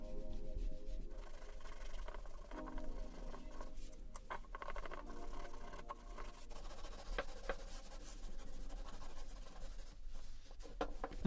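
Brown wax is rubbed by hand onto a pallet wood block: soft, close scratchy rubbing strokes repeating irregularly throughout, with no speech.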